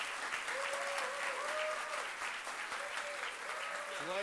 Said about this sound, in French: une bonne main d'applaudissements pour Guillaume et toute la gang qui est derrière